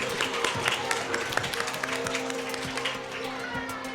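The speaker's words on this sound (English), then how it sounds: "I think you should give yourself a round of applause." An audience gives a round of applause at an agribusiness gathering, dense clapping that holds steady for several seconds with some voices underneath.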